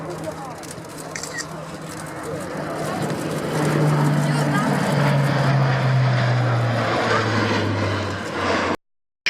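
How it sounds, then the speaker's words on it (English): A propeller aircraft drones past at the Royal Navy air day at RNAS Yeovilton, growing louder and holding a steady engine hum before cutting off abruptly. "providing us with a topside pass on the first run from our left."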